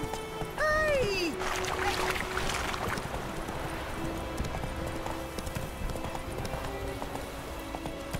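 Roach, a horse in a video game, walks with a steady clip-clop of hooves at moderate volume. A brief whinny-like call rises near the start, then the hooves carry on alone over soft ambient background.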